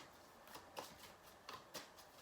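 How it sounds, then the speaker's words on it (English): A deck of tarot cards being shuffled by hand, soft riffling and sliding with a few sharper flicks, faint and close. "So I'm going to shuffle 3 times"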